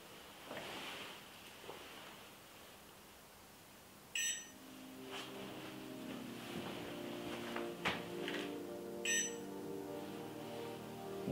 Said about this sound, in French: voir le petit flash vert autour de la grenade qui va vous permettre de la retrouver avec un léger bip